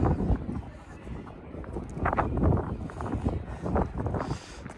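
A cold night street in Moscow's Chinatown carries steady, gusting wind that buffets the microphone in rough low rumbles, with someone talking over it.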